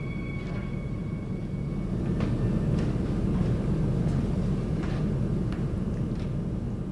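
Steady low rumble inside a moving train car, broadband and continuous, with faint higher clicks and squeaks scattered over it and no voices.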